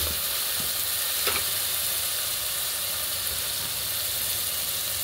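Masala frying for a crab curry gives a continuous dense sizzle and hiss with a low rumble beneath, steady and close, with one faint stir near the start and no talking.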